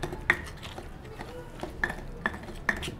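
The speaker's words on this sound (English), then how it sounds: "lastly you do, just mix all the ingredients together, just like this." Guacamole ingredients with avocado mixed in a bowl clink with several sharp utensil taps against the dish, spaced irregularly over quiet background.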